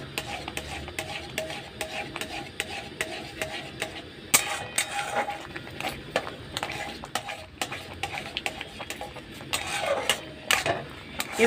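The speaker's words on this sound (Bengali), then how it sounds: "এইভাবে একটু ভালো করে নাড়াচাড়া করে নিতে হবে" Semolina being stirred in a pan while frying for a Bengali sweet, with a spoon scraping and tapping against the metal in a steady, close rhythm of small clicks and scrapes throughout.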